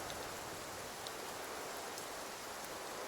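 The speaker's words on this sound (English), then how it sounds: "Oh, it's still raining here, too." Steady, even rain hiss in the video game Infinity Nikki, a dense wash of falling drops filling the whole scene without pause, with no talk over it.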